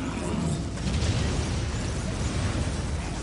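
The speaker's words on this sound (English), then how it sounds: "There are a lot of explosions happening." Explosions going off at an enemy base in the real-time strategy game Dawn of War, a steady rumbling wash of blasts and pops filling the whole stretch with little break.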